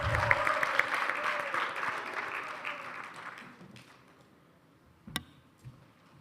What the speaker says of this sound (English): A warm round of applause to Angel